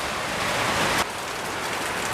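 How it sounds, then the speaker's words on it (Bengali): Rain falls steadily in a rural Bangladeshi village during the rainy season, a dense, even hiss of drops on surfaces that fills the whole short stretch with no voices. "যে এই বৃষ্টি শুরু হচ্ছে"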